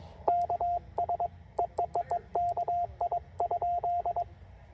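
Morse code callsign coming in on a TR-45L radio at a state park: short and long tone beeps in clipped groups, fairly clean over a faint hiss, no talking.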